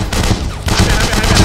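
Continuous, dense automatic gunfire in a VR shooting game, loud and close, rattling steadily through the whole short stretch with faint voices underneath.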